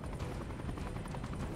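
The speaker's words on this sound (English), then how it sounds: "These helicopters remind me of like Warzone." Helicopter in the battle royale game Super People, a continuous low rotor thump with steady engine drone, close and constant throughout with no talking.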